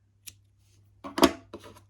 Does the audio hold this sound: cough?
no